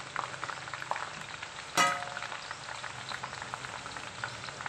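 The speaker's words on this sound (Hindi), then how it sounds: "अब हम इसमें भिंडी फ्राई कर रहे हैं।" Okra frying in hot oil, a steady close bubbling sizzle with one brief louder burst partway through.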